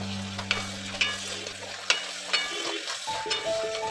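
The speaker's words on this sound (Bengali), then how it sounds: "গ্যাসটা জোরে দিয়ে আমি 2 মিনিটের মতন লাউটা নাড়াচাড়া করব।" Chopped bottle gourd and peas sizzle on a high flame as a spatula stirs and scrapes the pan in a few distinct strokes, close and moderately loud, with a low hum underneath that fades partway through.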